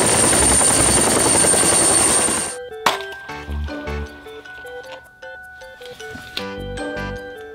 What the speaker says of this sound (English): Red helicopter.